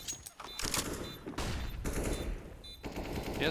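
AK rifle fire in the video game CS:GO comes as several rapid bursts of automatic shots separated by brief gaps, sharp and moderately loud, with game sound effects around them.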